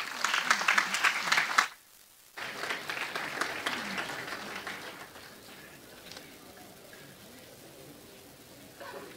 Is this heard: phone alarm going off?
no